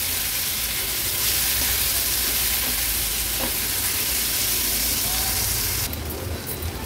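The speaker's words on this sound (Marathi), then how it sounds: "व्यवस्थित भाजी आपल्याला परतून घ्यायची आहे" Vegetables sizzle and hiss loudly in a hot pan, a steady frying crackle that runs throughout without any speech.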